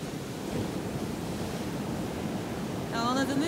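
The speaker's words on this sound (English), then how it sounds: "we're just watching the waves" Ocean waves wash steadily onto a beach at night in a broad, constant surf roar with some wind buffeting the microphone, and a faint voice rises briefly at the end.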